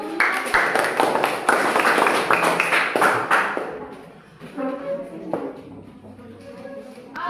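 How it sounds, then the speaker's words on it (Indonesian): A small classroom group claps together for a student team about to present, a loud burst of fairly dense clapping for about three and a half seconds that thins into scattered taps and quiet room noise. "Tepuk tangan dulu."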